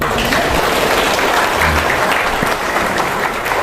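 Audience at a religious lecture applauding, a dense, loud, continuous burst of clapping from a crowd that holds steady throughout.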